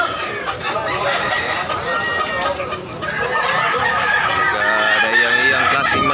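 Many chickens and roosters crowd a market in Tabunok, Cebu, crowing and clucking over one another in a dense, steady din, with faint chatter blended underneath.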